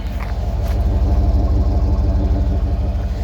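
A 1993 GMC Yukon truck engine runs close and loud, idling with an even, throbbing low rumble that holds steady throughout, with no talk over it.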